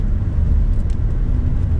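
A Hyundai Genesis rear-wheel-drive sedan pulls away in snowy conditions, a steady low engine and road rumble heard from inside the cabin, continuous and fairly loud with no talking.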